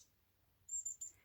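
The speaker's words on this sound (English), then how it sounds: "And there's my little friends, the birds." Small birds outdoors give a few faint, high, quick chirps close together, thin and brief over a low quiet hum.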